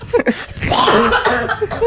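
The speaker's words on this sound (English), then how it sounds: "now she's coughing in the place" A short, sharp cough burst, close and loud, with a couple of brief catches of breath around it.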